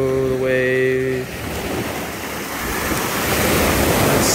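Ocean surf crashes onto a Costa Rican shore in a steady, loud wash of broadband roar, swelling and receding with wind noise, no voices present.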